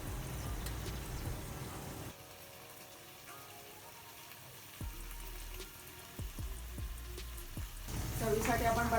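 Potatoes frying in oil in a pan sizzle steadily close up, with a few sharp clinks from stirring and a louder hiss building near the end.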